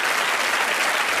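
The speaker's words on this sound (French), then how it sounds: "les applaudissements pour Elie Semoun" A television studio audience applauds comedian Elie Semoun, a brief burst of dense, even clapping that stays loud and steady throughout.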